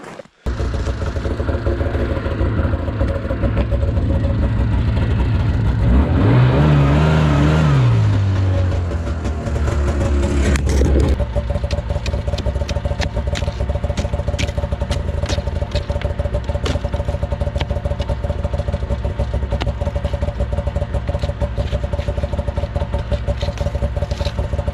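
A snowmobile on a frozen lake on a cold winter morning fires up, its engine rising in a revving sweep, then settles into a steady, loud running drone as the sled moves off, with no talking.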